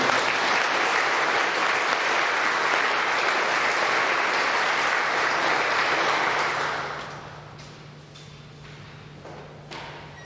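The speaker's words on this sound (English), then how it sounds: "Please give them another round of applause" Loud, sustained applause from a crowd at a high school Veterans Day assembly honoring veterans, steady for about seven seconds before dropping away to a quiet room with a faint hum and a few stray claps.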